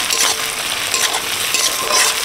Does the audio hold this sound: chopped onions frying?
yes